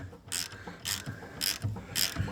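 A hand ratchet winds a bolt back in while replacing shocks and springs on a Fiat Panda 4x4: four close, rhythmic bursts of rapid clicking, each a short crisp run of pawl ticks, with no talking.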